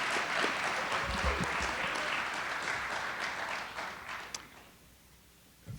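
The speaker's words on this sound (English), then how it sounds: "Can we have one more round of applause for the folks from the orchestra here?" Audience applause for orchestra players after a performance at an evening event, a dense, steady wash of clapping that slowly thins and fades toward the end, with no voices over it.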